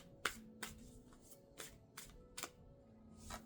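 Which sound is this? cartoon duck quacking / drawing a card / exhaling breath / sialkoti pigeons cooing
drawing a card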